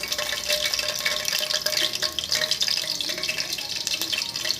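Green chillies are dropped into hot oil with cinnamon, cloves and cardamom for a poached egg gravy. A close, busy crackle and spatter carries on steadily, with no voices.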